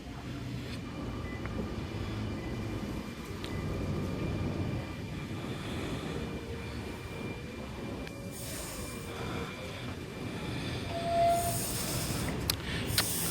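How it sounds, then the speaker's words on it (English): The M26 passenger train pulls into platform 1 at Rydalmere station at night, a steady rumble of wheels on rail with faint tonal whines and a brief squeal as it slows. "And we should have M26 arriving onto platform number 1 for a Carlingford service"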